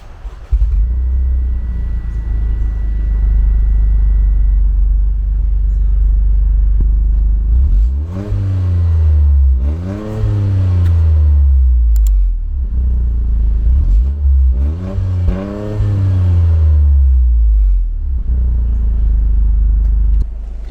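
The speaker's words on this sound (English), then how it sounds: "let's turn on the car and hear how the engine sounds" A Toyota GR Corolla's turbocharged three-cylinder engine idles with a deep rumble, then revs sharply several times in bursts, each rise and fall loud and close.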